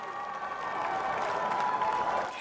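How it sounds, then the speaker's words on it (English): A crowd of supporters cheering and clapping at a Singapore presidential election nomination day, the applause swelling to a steady roar and holding there. "he was welcomed with loud cheers and applause from his supporters"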